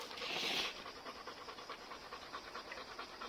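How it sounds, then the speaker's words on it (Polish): A dog pants steadily in fast, breathy rhythm close by at a campervan stop by a Swiss lake, with faint background noise and no talk. "Pies dyszy."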